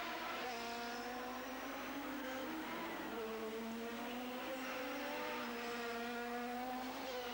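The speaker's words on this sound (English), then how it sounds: "we remain on board with Nigel. Let's watch him around the Long Beach circuit" 1994 IndyCar race car engine heard onboard around the Long Beach street circuit, a loud sustained high-pitched whine that climbs and drops with each gear change and corner, continuous throughout.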